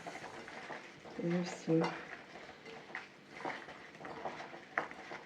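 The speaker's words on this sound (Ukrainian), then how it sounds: "І гарненько перемішуємо так само." Sliced zucchini and onion are stirred together in a bowl, giving a run of soft scraping and wet clattering strokes up close, with a few sharper knocks of the utensil against the dish.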